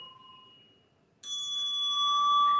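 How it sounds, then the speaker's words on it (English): A small bell rings with a clear metallic ding, fades away, then sounds again sharply and keeps ringing with a steady, bright tone, close and alone without any talk. "It's a sound of a bell"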